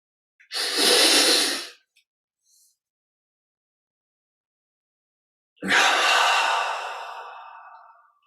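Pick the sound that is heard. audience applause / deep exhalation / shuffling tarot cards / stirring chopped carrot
deep exhalation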